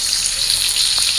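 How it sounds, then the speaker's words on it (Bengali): Fish fries in hot oil, a brief, steady, close crackling sizzle with no voices. "তো মাছগুলো আমি ভালো করে ভাজা নিই"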